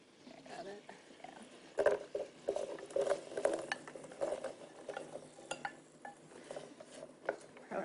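Carrots are tipped into melted butter in a pan and stirred, making soft clatters, scrapes and light patter up close, with a faint sizzle, while people talk over it.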